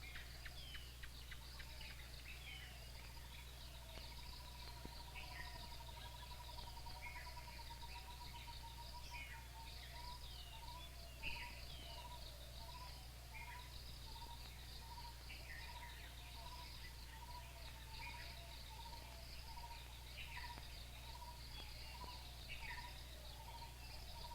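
Insects and birds around a forest monastery in Sri Lanka: a steady faint drone of crickets with repeated chirps and distant bird calls, with no voices.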